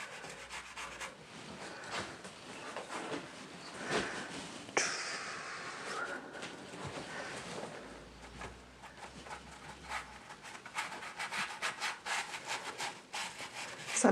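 A brush's flat side rubbing acrylic paint across canvas during a loose stormy landscape painting, close, soft scratchy scrubbing strokes repeating in an irregular rhythm, faint and unhurried, with no one talking.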